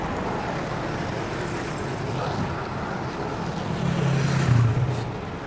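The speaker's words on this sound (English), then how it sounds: "always traffic." Steady road traffic rumbles along a street in Sri Hartamas, Kuala Lumpur, a continuous low wash of engines and tyres that swells briefly near the end as a vehicle passes.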